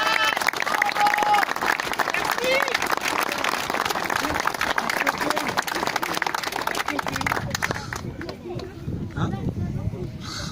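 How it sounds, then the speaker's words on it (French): A crowd applauds with dense, sustained clapping that fades toward the end, with some voices mixed in. "Vous pouvez l'applaudir."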